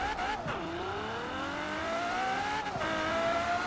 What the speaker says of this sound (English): This car is actually doing pretty well as far as acceleration against like the Lamborghinis and stuff.